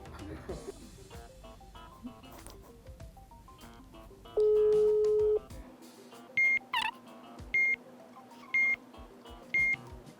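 A phone call rings out unanswered, with repeated electronic ringback tones in short regular bursts after a longer tone, close and clear over faint background sound.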